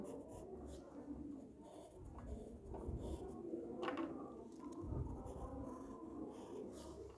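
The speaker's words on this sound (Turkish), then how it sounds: "Buraya bu şekilde bir kol çiziyorum." A pen scratches across paper while an outfit design is drawn, a soft continuous scribbling with light strokes and rubbing, close and quiet, without speech.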